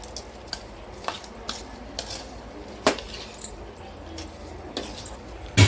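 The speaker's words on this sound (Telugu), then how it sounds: "ఇప్పుడు బాగా కలిపేసుకోవాలి దీన్ని." A spoon scrapes and clinks in a bowl as chopped raw mango pickle is stirred with its cooled seasoning, giving sparse, separate taps and scrapes over a soft background.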